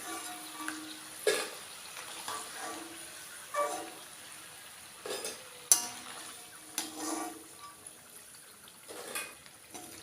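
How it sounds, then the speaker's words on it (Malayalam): Diamond cuts, a flat cut snack, frying in oil with a faint steady bubbling under intermittent clinks and scrapes of a utensil against the pan. "ഇങ്ങനെ മുഴുവനും വറുത്ത് പോകണം."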